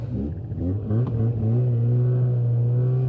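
A Polaris Indy 550 snowmobile engine idles close by, a steady two-stroke drone that dips briefly after a short blip, then settles into an even, unbroken hum.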